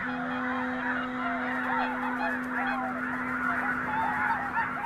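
A large flock of red-breasted geese honking continuously, many overlapping calls forming a dense, steady chorus with a constant low hum underneath.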